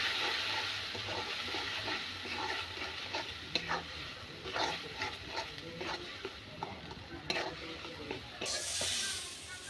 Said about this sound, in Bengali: এবার সব কিছু আমি একসাথে ভালো করে কষিয়ে নেব